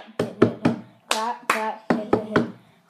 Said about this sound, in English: So clap, clap, hit, clap, clap, hit, clap, clap, hit.